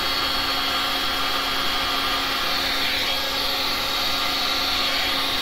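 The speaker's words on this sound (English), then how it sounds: "now I'm going to do some high air with the heat to blow it out a little bit" Heat gun blasting hot air at high setting over a Dutch resin pour painting, a steady loud whooshing roar that holds evenly throughout with no voices.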